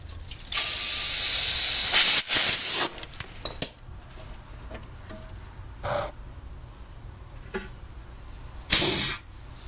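A loud burst of hissing air from an air compressor inflating an air suspension bag runs for a couple of seconds, followed by short puffs and a final hiss, with quiet pauses between.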